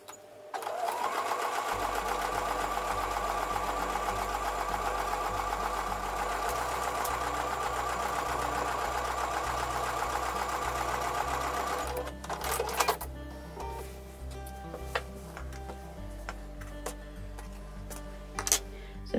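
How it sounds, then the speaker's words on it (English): Sewing machine stitching a Tiara Crown quilt block with a quarter-inch seam, a steady close whirring hum for about twelve seconds that stops abruptly, followed by lighter handling clicks and fabric rustle. "back over to the sewing machine and sew with the 1/4-inch seam"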